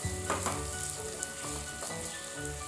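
Crushed ginger sizzles steadily in hot oil in a pan for a Kerala-style beef curry, with close scraping and stirring noises over the constant frying hiss.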